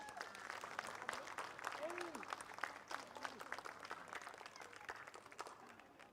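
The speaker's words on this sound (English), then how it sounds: "And a huge round of applause, please, for your OKN Junior Champions." An audience at a karting race-day awards ceremony gives junior champions a sustained round of applause, a steady dense patter of many hands that sounds fairly distant and faint, with a voice talking over it.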